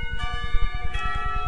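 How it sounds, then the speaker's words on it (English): Clock tower bell in the video game Katawa Shoujo, sustained ringing bell tones with a layered harmonic hum and a soft pulsing low rhythm underneath, a second strike swelling near the end, no voices. "The clock bell tower rings,"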